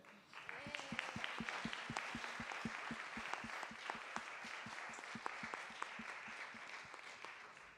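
A seated audience at an arts summit gives a sustained round of applause to the presenters, dense steady clapping from a crowd lasting throughout.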